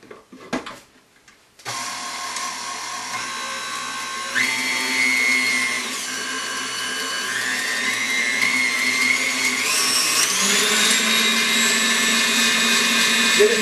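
Electric mixer beating pound cake batter with sifted flour, whirring on after a few clicks and rising in pitch in steps as the speed increases, a loud continuous motor whine close by with no talking.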